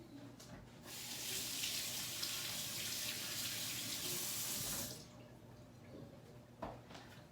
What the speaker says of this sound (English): I'm just gonna give my fingers a rinse.